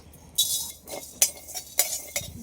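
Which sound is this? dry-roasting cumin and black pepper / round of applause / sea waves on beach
dry-roasting cumin and black pepper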